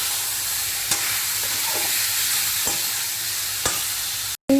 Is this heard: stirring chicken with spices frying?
yes